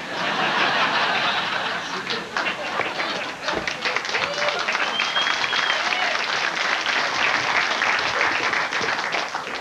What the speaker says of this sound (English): Once again, they're applauding radioactive poster ink.